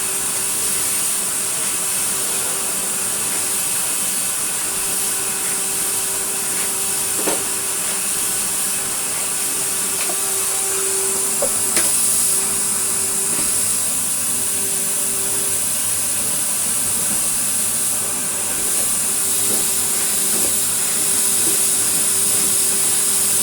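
A vacuum cleaner with a straight suction head runs steadily over a rug, giving a continuous, loud airy roar and hiss with a faint whine. The sound holds constant throughout with no breaks.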